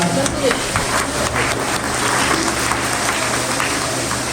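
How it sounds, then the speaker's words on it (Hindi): Steady applause from a crowd, dense clapping that holds at an even level throughout with no pauses. "जोरदार तालियों के साथ"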